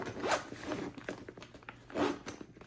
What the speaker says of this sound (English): zip the bag up.